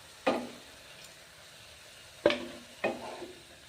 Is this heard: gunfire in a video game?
no